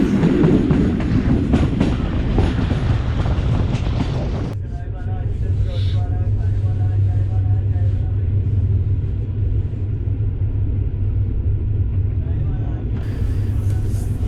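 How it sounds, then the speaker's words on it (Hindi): A GU40 diesel locomotive rumbles along the track on a Pakistani line out of Lahore, a loud broad roar with rail clatter that shifts to a steady in-cab drone as it notches up and accelerates. "GU40 ने फिर नॉचअप कर दिया"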